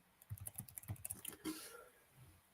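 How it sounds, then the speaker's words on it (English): Fingers type text into inventory-tracking software on a computer keyboard: a quick, faint run of light clicking keystrokes lasting about a second and a half, then trailing off into soft background rustle. "I'm just typing in text for a broken package adjustment."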